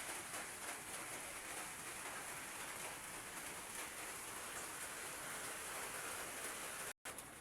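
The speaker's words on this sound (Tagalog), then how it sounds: "Umuulan nga pala rito." Rain falls steadily outdoors during a seaside cooking session, a soft continuous hiss of drops with no distinct rhythm and no voices, with one brief dropout near the end.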